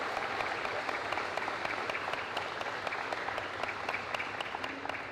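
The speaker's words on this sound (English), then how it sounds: "Round of applause, please." Audience applause fills a high school scholarship ceremony as students planning to attend North Idaho College stand, a steady, fairly distant wash of many hands clapping that holds evenly throughout.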